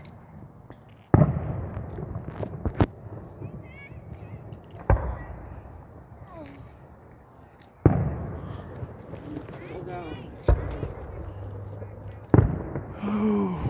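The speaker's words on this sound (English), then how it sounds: "I need to see some bigger fireworks." Fireworks burst in the distance during a Christmas display, with several sharp booms and crackling tails spaced a few seconds apart. People talk and react throughout.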